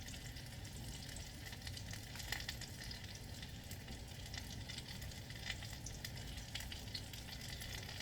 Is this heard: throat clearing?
no